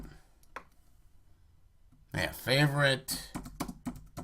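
Clicking keystrokes on a computer keyboard while entering a question into a spreadsheet cell, a faint early tap followed by a run of clicks mixed in with a person talking over them.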